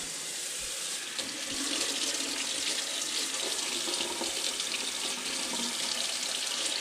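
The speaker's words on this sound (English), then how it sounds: "Okay, so now I need 4 cups of hot water." Hot water runs steadily from a kitchen tap, a continuous close splashing rush into a sink or pot while home-canning dry beans and salsa.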